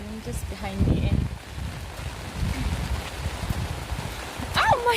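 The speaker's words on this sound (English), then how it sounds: "It is raining so heavily." Heavy rain pours steadily over a rural Indian lane, a constant close hiss of drops on surfaces, with voices talking over it and a brief dog-like bark near the start.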